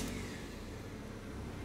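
A 2000 Honda Civic Ferio facelift sedan's engine runs with a steady mid-pitched hum that stays even and moderately loud throughout, with no other sounds on top.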